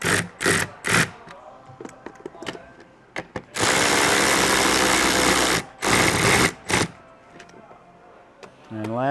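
A power tool tightens plastic-mounted bolts on a Polaris intake manifold in short whirring bursts, one longer sustained run in the middle, close and loud, with speech between the bursts.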